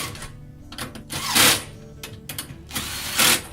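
A power tool whirs in several short bursts, two louder and longer than the rest, while tightening down the mount for a bird deterrent's solar panel; the ratcheting tool sounds close.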